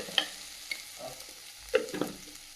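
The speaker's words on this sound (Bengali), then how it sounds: "আলুটা ভালো করে ভেজে নিয়েছি" Potatoes fry in a pan for a magur fish curry, a faint sizzle beneath a few sharp clinks and scrapes of a spatula at irregular intervals.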